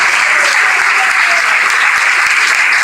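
A church congregation bursts into loud, dense applause of praise, steady and close throughout with no pause.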